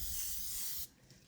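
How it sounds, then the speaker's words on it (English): A single steady hiss of a spray bottle of oil up close over chicken for an air fryer, lasting under a second, then stopping abruptly into quiet. "So we're gonna spray this with oil."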